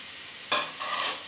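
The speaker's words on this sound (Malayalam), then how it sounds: "എല്ലാം ഇട്ട് കഴിഞ്ഞിട്ട് നന്നായിട്ട് ഫ്രൈ ആവട്ടെ." Prawn biryani masala of crushed shallots, garlic, ginger and green chilli frying in a pan, a steady loud sizzle with a sudden burst of stirring that settles back into continuous hissing.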